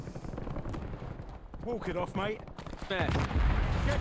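Rapid bursts of video game gunfire from Call of Duty: Warzone crackle in the background while people talk over them, with heavier thumps near the end.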